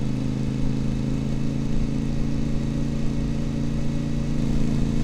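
A Voge DS 800 Rally motorcycle with a baffle-free Scorpion exhaust cruises in second gear at about 25 mph, giving a steady, loud, close engine drone with no talking.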